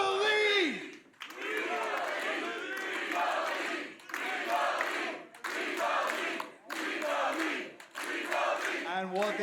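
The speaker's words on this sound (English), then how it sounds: "this crowd is going to stand up and chant" A live wrestling arena crowd at a TNA iMPACT match chants in loud rhythmic bursts, each shout separated by brief pauses, a dense roar of many voices.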